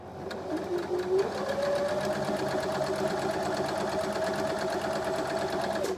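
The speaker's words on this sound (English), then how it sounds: "I'm going to stitch them together, 1/4 of an inch as usual" A sewing machine stitches quilt block pieces together, a close, steady rapid mechanical whir with a slight rise in pitch as it gets up to speed and runs continuously.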